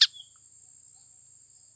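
Male bamboo prinia with a red nape gives a brief sharp chirp near the start, then a thin high sustained insect-like trill fills the rest, with no talk.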